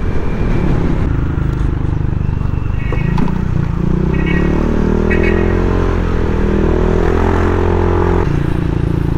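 A motorcycle engine drones steadily at close range with constant road and wind rumble, its pitch shifting slightly as the bike rides along.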